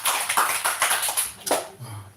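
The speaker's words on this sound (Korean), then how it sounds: "우리 서로를 격려의 박수 한번 하실까요?" Congregation at a Sunday church service clapping together in encouragement, a dense run of rhythmic hand claps that fades out near the end, fairly close and steady.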